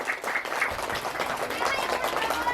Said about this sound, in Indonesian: Tepuk tangan dorong buat Unicorn yang keras